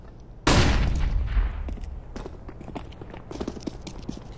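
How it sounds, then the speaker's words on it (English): Flashbang grenade going off in Counter-Strike on the Mirage map: a sudden loud, sharp blast that rings out and slowly fades, followed by scattered faint clicks and in-game clatter. "Deploying flashbang."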